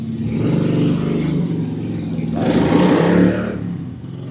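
A loud motorcycle exhaust roars nearby, rumbling steadily and then swelling louder for a moment before easing off.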